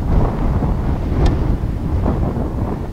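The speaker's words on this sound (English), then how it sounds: "soft sandy surface, windy, as you can hear" Strong wind blows on a soft sandy walking trail, a loud, steady rumbling buffet across the microphone throughout.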